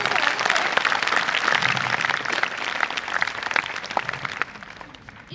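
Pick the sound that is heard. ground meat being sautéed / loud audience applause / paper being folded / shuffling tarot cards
loud audience applause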